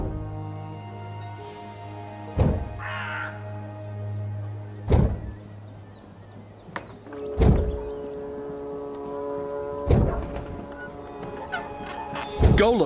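A talking bird squawks in the Dreamfall Chapters game, sharp honking fowl-like cries bursting out every couple of seconds over a low ambient hum, with no talking.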